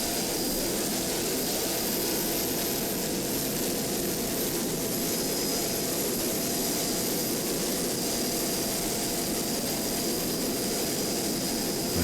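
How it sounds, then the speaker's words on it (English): The Class 5 offshore racing powerboat Typhoon roars past at the 2007 Point Pleasant Offshore Grand Prix, a loud, steady engine howl with broadband wind and water rush that holds throughout. "You see going by the Class 5 entry of Typhoon with Glenn Helwig and Candy Schluss."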